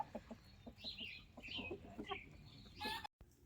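Backyard chickens on a Wyoming property cluck in a quick, busy series of short calls, fairly close, with a few higher squawks mixed in and a brief dropout near the end.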